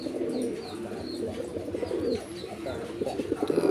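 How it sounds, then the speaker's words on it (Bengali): Several magpie pigeons coo in a low, throaty, overlapping murmur that runs steadily throughout, fairly close, with faint chirps above. "কবুতরের ঢাক দেখেন ভাই"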